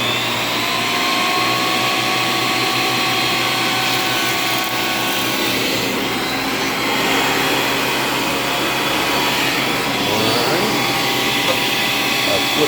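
A Shopfox 13-inch planer feeds a thin black walnut hardwood board, producing a loud, continuous high whine and roar that holds steady from start to finish.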